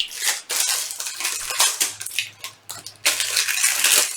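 Packaging around an eyeshadow palette being cut and torn open, with close crinkling, crunching plastic and snipping bursts in an uneven rhythm, fairly loud and without talk.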